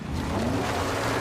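A car engine drones and revs steadily at moderate volume while straining to tow a huge gold boulder across desert ground in a film scene, with no voices.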